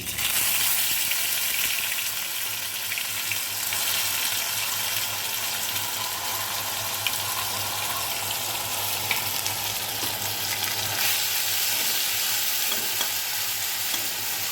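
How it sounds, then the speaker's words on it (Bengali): A ground onion, garlic and chili paste fries in hot oil for a Bengali jackfruit and lentil-fritter curry. It makes a continuous, loud sizzle with scraping stirring sounds throughout. "বেটে রাখা পেঁয়াজ লঙ্কা সব দিয়ে দিচ্ছি তেলের মধ্যে।"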